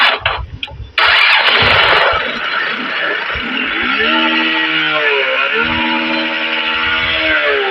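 A motorcycle engine cranks with rough sputters, then catches and revs loudly before settling into an uneven, struggling idle that rises and falls, as if the bike is faltering.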